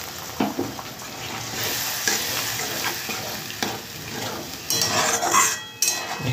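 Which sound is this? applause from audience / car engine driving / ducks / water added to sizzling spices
water added to sizzling spices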